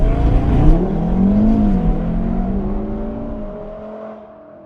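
A 2017 Audi TT RS five-cylinder turbo launches hard under launch control, its engine roaring up through the revs, then the pitch drops and rises again through a gear change before the sound gradually tails off, loud and close with no talking.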